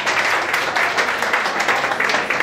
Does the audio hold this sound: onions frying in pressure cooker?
no